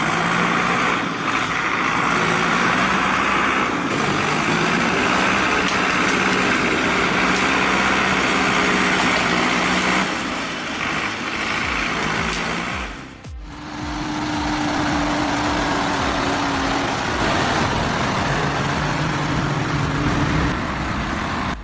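An old tractor pulling with a chain in muddy logging country, its engine droning loudly and steadily, with a sharp cut and a shift in load partway through.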